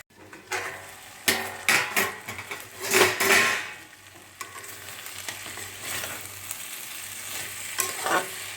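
Taro stolons (kochur loti) cook uncovered in a pan with a steady close sizzle, broken by several sharp stirring scrapes and clatters of a utensil against the pan.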